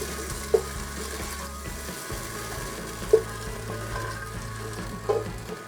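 Celery sizzling in hot oil in a pan, a steady low frying hiss with a few sharp clinks of a utensil stirring at intervals, heard alone.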